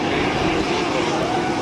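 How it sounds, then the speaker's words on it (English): Short Sherpa propeller airplane landing at an airshow with reverse thrust, a loud, steady roaring engine drone heard close and alone. "There's some reverse thrust coming on. Help to slow the airplane down."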